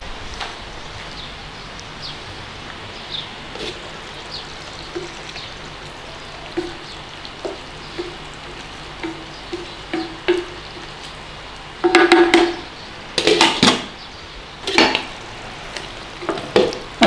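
Canned-tomato marinara sauce simmering in a pan, with a soft steady bubbling and popping at close range and louder spluttering bursts toward the end, no voices.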